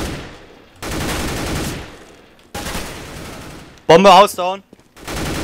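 Gunfire in Counter-Strike: Global Offensive on the de_Inferno map, heard as short bursts of shots mixed in with German team voice chat, with loud sharp bursts near the middle of the clip.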